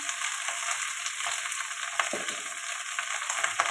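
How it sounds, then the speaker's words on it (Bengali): Okra fries in oil with turmeric in a pan, giving a dense, steady sizzle close up, with occasional soft stirring scrapes and small pops and no talking. "ভেন্ডিগুলো দিয়ে দিলাম, একটু হলুদ দিয়ে দিলাম,"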